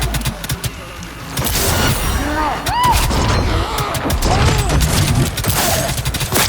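Grenade blasts and gunfire ring out in the video game Cyberpunk 2077 during a combat scene, with dense overlapping bangs, rumbling booms and whooshing effects that stay loud and continuous throughout.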